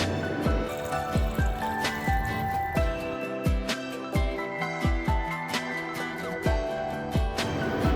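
Hot water pours and drips into a pot of dal khichdi in a series of irregular plops and splashes, with a steady low hum underneath.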